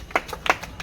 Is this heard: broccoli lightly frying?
no